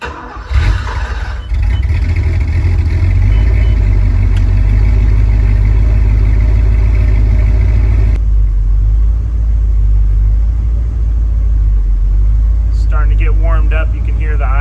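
An old Porsche 928 V8 idles with a deep, steady rumble that rises and falls slightly as the idle surges, loud and close, with someone talking over it.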